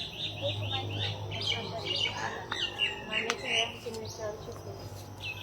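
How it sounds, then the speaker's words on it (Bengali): Several birds sing and call around a lotus pond outdoors, a mix of repeated chirps and brighter whistles at moderate distance, layered over a low steady hum and a faint background voice. "আর দেখো কি সুন্দর পাখি ডাকতেছে।"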